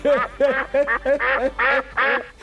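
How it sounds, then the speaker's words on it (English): A duck quacks about six times in quick, evenly spaced bursts, loud and close, with no other sound around it. "Brother Duck looked at him Brother Duck started laughing."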